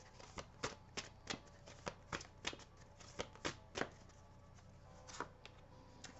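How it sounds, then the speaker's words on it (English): Tarot cards are shuffled and pulled in a quiet room, a run of crisp, close card snaps and riffles in an uneven rhythm with no talking. "let's pull some cards here on advice on what you can do to move"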